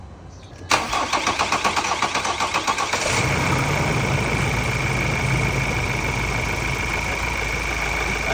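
Ford Raptor engine cranking with a rapid rhythmic starter chug for about two seconds, then catching and settling into a steady loud idle, close up, with no talking.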